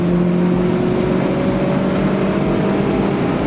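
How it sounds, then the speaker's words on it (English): Mazda MX5 engine at full throttle on a race track, a loud steady drone with a rising tone as it accelerates hard, continuous throughout with road and wind noise. "Full throttle now."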